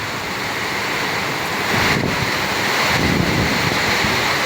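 Heavy rain pours down during flooding in Qatar, a loud dense unbroken roar of falling water close by with gusty rumbling swells.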